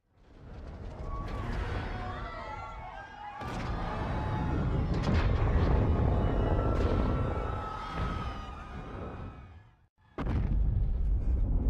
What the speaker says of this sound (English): an airport where it destroys a helicopter that sets off a chain reaction of explosions